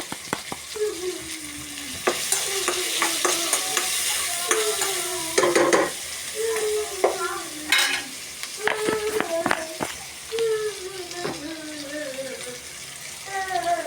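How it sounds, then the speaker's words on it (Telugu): Onions frying in a pan with salt and turmeric, a continuous close sizzle with repeated stirring scrapes and utensil clinks throughout, with some faint background voices. "ఉల్లిపాయలు వేగుతుంది"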